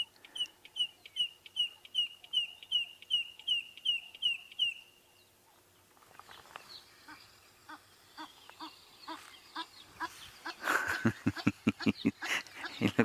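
A wild bird in an African reserve at sunset gives a rapid series of about a dozen bright, evenly spaced clicking calls, then quieter rustling follows before louder clucking, fowl-like notes build near the end.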